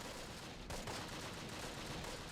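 Dense muffled crackle of mortar teams firing in the tactical war game Close Combat: The Longest Day at Carentan, continuous and moderately loud, with one sharper thump under a steady rumbling wash of distant impacts.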